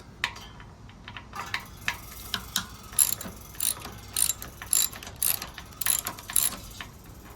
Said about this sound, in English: And then we'll take the Kickstarter off.